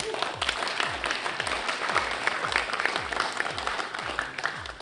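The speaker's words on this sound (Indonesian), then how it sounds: "Tapi sebelumnya, aplaus dulu untuk penyanyi" A studio audience at an Indonesian TV talk show applauds a singer with steady, dense clapping that holds at an even level throughout.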